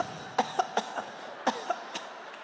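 A comedian imitates a string of people coughing in the next room, several sharp coughs spread unevenly over a few seconds, moderately close against a faint background.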